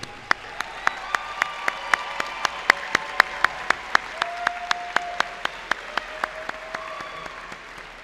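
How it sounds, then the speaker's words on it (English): Audience applause at a high school graduation ceremony, a steady wash of many hands with sharp individual claps standing out in a regular rhythm, mid-distance in a large hall, with no talking over it. "Let us please give these students an applause as they are seated."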